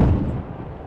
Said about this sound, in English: Take that shotgun in your face.